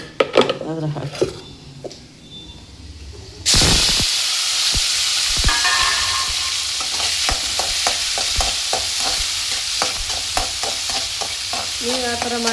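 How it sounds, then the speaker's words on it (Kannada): Lemon rice frying and being stirred in a pan gives a loud, steady sizzle that starts abruptly a few seconds in, with repeated scraping strokes of the spoon; quieter kitchen sounds and some talk come before it. "ಚೆನ್ನಾಗಿ 1-2 ನಿಮಿಷ ಫ್ರೈ ಮಾಡ್ಕೋಬೇಕು."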